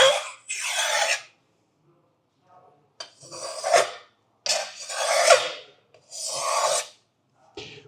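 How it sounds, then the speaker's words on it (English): A chef knife scrapes across a whetstone in four long, rasping strokes, each about a second, separated by brief pauses; close and clear, with no talking. "I will do that by using the whetstone like this"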